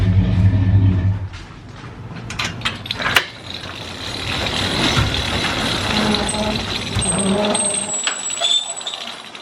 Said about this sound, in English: I am going to shut the shop door right now.